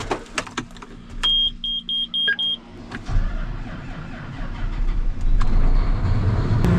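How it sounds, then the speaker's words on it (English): A combine harvester engine cranks and catches after a run of cabin beeps and a short warning tone, then settles into a loud, steady low rumble that builds slightly as it idles near the cab. "I'm gonna start the combines"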